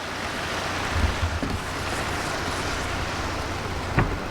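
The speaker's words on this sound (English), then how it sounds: "Great day, found a waterfall, yay!" A continuous broad rush of falling water from a waterfall along the Feedstone Mountain Jeep trail, steady and fairly loud, with a couple of brief knocks and bumps nearby.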